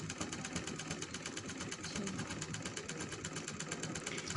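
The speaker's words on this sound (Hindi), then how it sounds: "अब मैं आपको मशीन चला के दिखाती हूँ कि मशीन की आवाज़ भी बहुत कम हो चुकी है" A household sewing machine, freshly oiled and cleaned, runs steadily with a fast, even mechanical clatter and light hum, quiet and close, with no talking.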